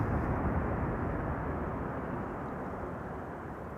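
An airliner landing at Amsterdam Schiphol with thrust reversers deployed, a dense wide rumble that fades gradually, steady and fairly distant with nobody talking.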